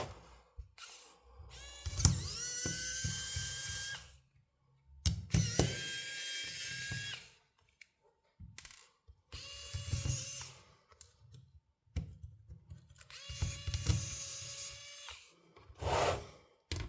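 Screws are backed out of an HP EliteBook 840 G4 laptop during a screen replacement, heard as four separate bursts of close, whirring, clicking tool noise with short silent gaps between them.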